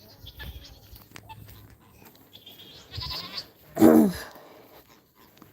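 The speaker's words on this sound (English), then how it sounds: "goats think they're getting fed because I've done that" Homestead goats expecting to be fed let out two loud, close bleats near the end, the second the strongest, with a quiet voice briefly audible around them.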